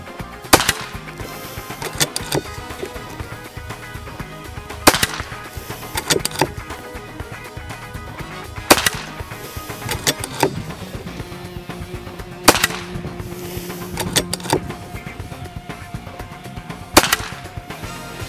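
An FX Verminator air rifle fires 10.34 grain JSB .177 pellets at a 50-yard target outdoors in gusty wind, five sharp, loud cracks spaced roughly four seconds apart over faint background noise, with no talking.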